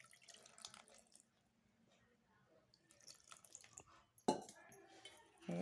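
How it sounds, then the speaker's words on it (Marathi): Water poured into gram flour batter for crispy onion bhaji gives a faint, soft trickle and scattered drips, ending in a sharper knock and a brief splash close by. "कुरकुरीत कांदा भजी करण्यासाठी ह्यात पाणी मिक्स करायचं"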